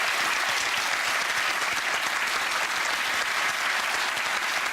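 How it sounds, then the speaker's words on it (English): A dense, sustained round of audience applause at a novel-writing competition final, loud and even throughout with no voices over it. "Big round of applause."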